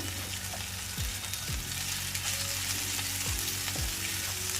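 Pasta goes into a frying pan with oyster mushrooms and meat, a steady close sizzle over a low hum, with a few soft thuds and scrapes as it settles.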